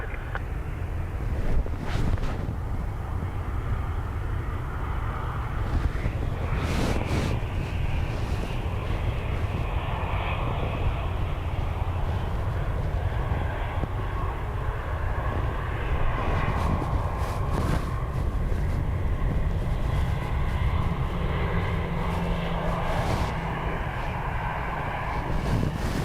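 A Ryanair airliner on approach to Dublin Airport in a crosswind, its engines a steady, broad roar that holds for the whole span over wind buffeting the microphone, with no talk.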